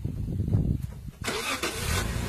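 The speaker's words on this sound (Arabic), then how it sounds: "يتم الآن إخراج السيارة، الله يستر" A car engine cranks and catches as the car is pulled out near a ravine edge, a short turnover followed by a rough running roar, close and loud with a brief dip before it fires.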